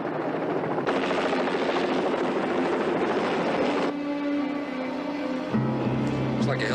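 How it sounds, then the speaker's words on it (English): A helicopter flies overhead in a TV action drama, its heavy rotor and engine roar loud and continuous, the tone shifting midway as it moves, with voices talking beneath it. "Looks like a helicopter, Sergeant."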